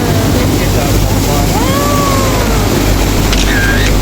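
A loud, constant boat engine drone heard from the stern of a river boat heading to Wat Arun in Bangkok, with rushing water and wind noise filling the whole clip, close up and unbroken.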